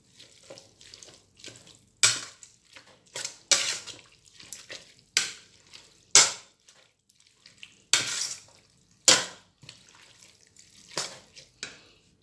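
Bamboo shoots tipped into a pot and stirred, producing repeated wet clattering scrapes and splashy bursts in an irregular rhythm, close and fairly quiet, with no talking.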